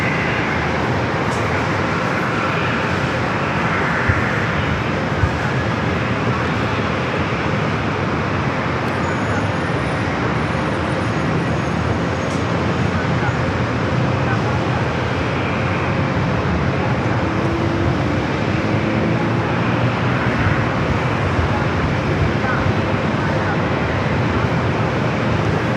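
Arizona Rail freight train rolling northbound, a continuous loud rumble and wheel roar that persists unbroken throughout, mixed with steady background traffic noise.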